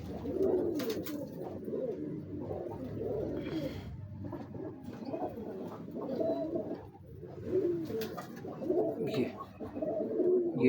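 Teddy pigeons, a stout breed kept in a coop, coo close by in repeated low, throaty, rolling phrases that overlap and continue steadily throughout.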